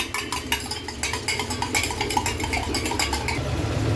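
A single egg is beaten in a bowl with a utensil, giving a steady, fast rhythm of close clinking taps against the bowl with no voices.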